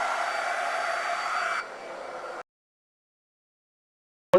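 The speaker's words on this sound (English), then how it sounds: "let me dry this." A hair dryer blows on light paint on a Valentine's decor piece: a loud, steady airy whir that shifts to a lower setting partway, cuts off abruptly, and leaves silence before a brief final click.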